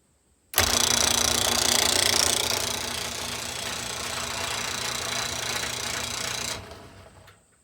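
Overhead Door Eagle 1000 garage door opener with a faulty logic board starts abruptly and runs by itself, a loud steady mechanical whir and rattle with a hum, easing slightly before stopping after about six seconds.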